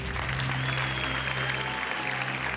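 Steady audience applause fills a hall during a Quran recitation competition, continuous and fairly even throughout, with a low hum underneath.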